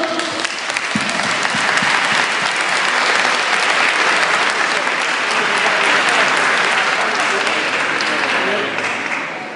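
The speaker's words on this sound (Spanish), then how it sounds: "Muchísimas gracias a la Comet-Con, un fuerte aplauso." Loud, sustained applause from a large crowd, dense clapping that holds steady for several seconds before easing slightly at the end.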